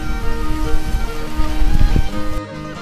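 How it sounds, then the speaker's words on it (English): Steady rain hisses around cyclists riding bicycles on a Leelanau Peninsula tour, a loud broadband wash with rumbling low bumps, then dropping away near the end. "Riding in the rain."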